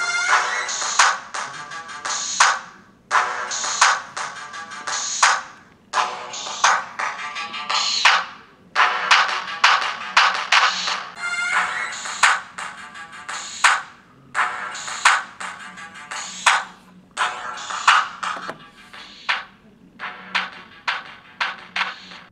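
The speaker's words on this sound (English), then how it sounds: "I play the same song on each phone" Music plays from a small, tinny Samsung Galaxy S3 or Google Nexus 4 smartphone speaker in repeated bursts with short gaps between phrases, fairly loud and close, with no voices.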